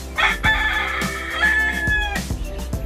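A male quail crows repeatedly in short, rasping calls, fairly close, over steady low background noise.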